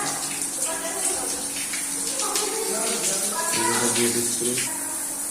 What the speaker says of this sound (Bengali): খুব সুন্দরভাবে জলটা পড়ছে।